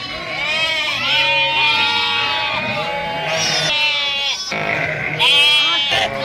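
Sheep and lambs in a village flock bleating loudly and repeatedly, overlapping wavering calls near and far, with a person's voice briefly among them.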